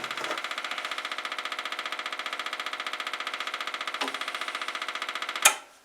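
A small engine being winterized runs on WD-40 fed through the carburetor, firing in a fast, steady, even rhythm close by, then surging briefly and cutting out near the end.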